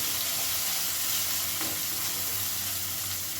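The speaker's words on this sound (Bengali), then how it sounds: "ভালো করে একটু মশলাগুলো কষিয়ে নেব" Chilli and coriander powder spices frying in a pan while being stirred, a steady close broadband sizzle with a faint scrape of the spoon, no talking.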